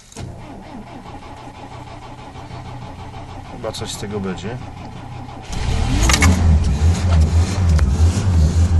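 A car engine cranks and catches, then revs loudly into a rough, pulsing roar; someone speaks briefly before it starts.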